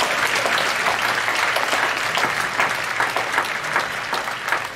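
A congregation claps together at a Friday all-night church worship service, dense steady applause filling the room for several seconds without a break.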